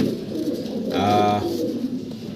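A pair of German Modena pigeons gives a short, close coo in the middle of a steady room hum, with no other voices.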